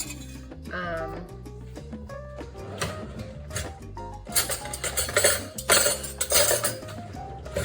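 Dry pasta shells are tipped into a pan for a stuffed shells dish, giving a run of close, bright clinks and clatters of hard pasta against metal with no talking.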